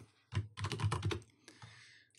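Keys clatter on a computer keyboard in a quick, close burst of typing, a dense run of clicks followed by a few scattered single taps.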